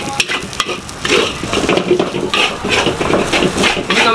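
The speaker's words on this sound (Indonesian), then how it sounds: "Ini beliau lagi masak nasi goreng kambing istimewa nih." Goat fried rice (nasi goreng kambing) frying and being stirred in a pan at a street food stall, with continuous sizzling and repeated scraping and clanking of a metal utensil against the pan, fairly loud and close, no talk.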